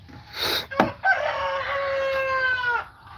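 Chickens near a chicken barn on a farm in Aklan, close and fairly loud: a rooster gives one long crow after a short burst of clucking, with no talk.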